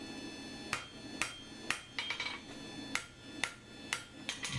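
Hammer blows ring out on a metal nail header held over the rounded horn of an anvil, about ten sharp strikes in an uneven rhythm, close and alone against a faint background hum.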